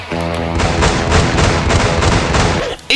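Rapid, sustained machine-gun fire from zombie soldiers with submachine guns in a Resident Evil film, loud continuous bursts over a tonal music score, cutting off abruptly near the end.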